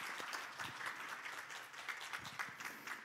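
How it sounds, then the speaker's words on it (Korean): Soft, somewhat distant audience applause at the closing of the UbuCon Asia 2022 conference, a steady patter of many hands lasting a few seconds. "혹시 박수 한 번씩 보여주시면 감사하겠습니다"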